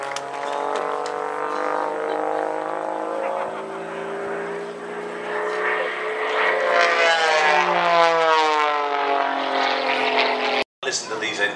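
A Spitfire's piston engine at an air show drones loud and steady under heavy loading, with a falling pitch sweep as the fighter passes, and a commentator talking over it throughout.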